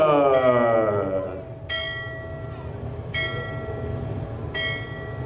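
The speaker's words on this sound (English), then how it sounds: "A storm bell?" A large storm bell rings out with a long, resonant tone, struck about four times at a slow, even pace, each strike ringing on over a low rumble.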